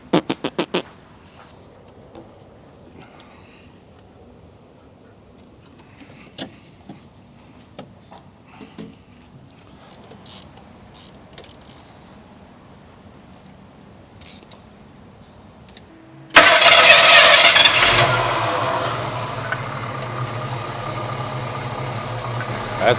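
A 1967 Ford Mustang with a 302 V8 fires up abruptly partway through, then settles into a steady, loud, close idle after a quieter stretch of faint clicks and handling noise.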